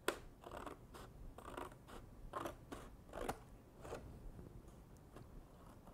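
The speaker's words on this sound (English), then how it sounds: "we can carefully cut along our creases" A pair of scissors snips paper along folded creases in a quiet room, a steady series of short crisp cuts with small pauses between them, close and fairly soft.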